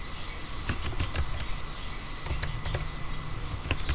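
Computer keyboard typing while data is entered into a cinema list form, a run of quick, crisp key clicks in irregular bursts over a steady low hum, close and fairly loud.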